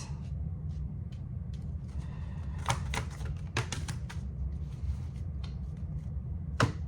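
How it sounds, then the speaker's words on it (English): Tarot cards are shuffled and drawn close by, giving a scatter of soft, quick taps, flicks and slides over a low steady room hum. "Let me just pull some cards for you"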